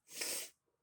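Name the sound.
sneeze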